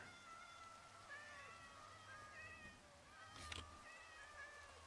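Cats meowing in the game Minecraft, several short rising mewls scattered across the clip over a steady background hum, moderately loud with no talking.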